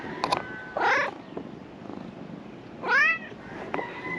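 A cat meows twice nearby, short plaintive cries separated by quiet rustling.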